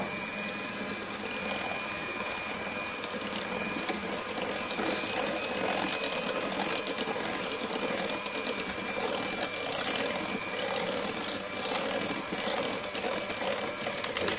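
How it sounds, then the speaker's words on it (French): Electric whisk beating chocolate cake batter after milk is added, a steady continuous motor whir with a bright buzzing edge running alone and at even loudness throughout, close by. "Je vais rajouter mon lait et on va remettre à fouetter délicatement."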